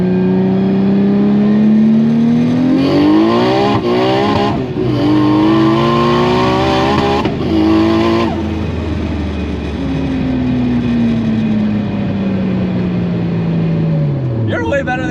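An 800HP rear-wheel-drive green Nissan Skyline R32 accelerates hard, its engine note climbing repeatedly through sharp gear changes before a long, falling deceleration, loud and close from inside the car.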